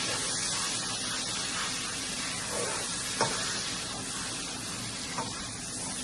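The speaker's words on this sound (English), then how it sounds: "I'm going to put in the spring onions. And just let that fry up a little bit." Spring onions fry in butter in a pan, giving a steady, fairly soft sizzle with a couple of light stirring clinks and scrapes over it, and no voices.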